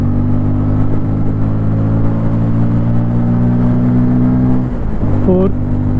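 A 2024 Bajaj Pulsar N250 roadster pulls hard in third gear, a loud steady engine drone holding pitch, briefly dipping at a gear change near five seconds before rising again, with a rider talking over it.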